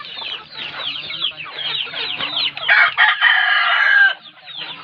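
A rooster tied up in a backyard flock clucks and calls in a rapid series of close, loud squawks, ending in a longer drawn-out crow-like cry before falling quiet.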